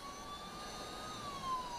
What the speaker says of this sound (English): We've got a siren on.